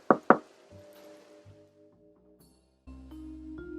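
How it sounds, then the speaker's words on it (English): Two sharp, close knocks on a door at the very start, then quiet tonal music and sustained notes follow, with no voices heard. "Sam knocked on the door."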